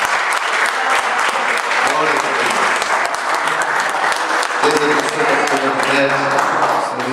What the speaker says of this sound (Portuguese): Aplauda Ele bem forte em nome de Jesus.